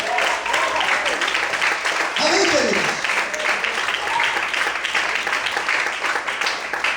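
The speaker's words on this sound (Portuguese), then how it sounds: "Quantos podem aplaudir e exaltar o Senhor em forte?" A church congregation applauds steadily through the whole stretch, broad crowd clapping with shouted voices and a preacher's exclamations mixed in over the top.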